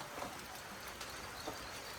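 Rain falling on a village tin sheet roof, a steady broadband patter with occasional louder drips, close and fairly quiet, with no talk.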